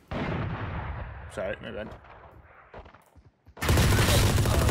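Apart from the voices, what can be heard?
gunfire from the video game Valorant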